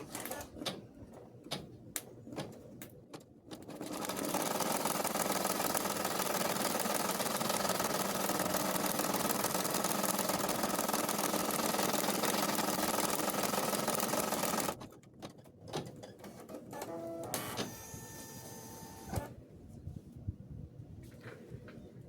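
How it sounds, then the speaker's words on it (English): An embroidery machine stitching a placement outline for a cloth doll's wig, starting after a few clicks into a steady, loud, fast mechanical whirring that runs about eleven seconds, then stops amid clicks and short beeping tones. "We're going to load our wig design into our machine and stitch out the placement stitch."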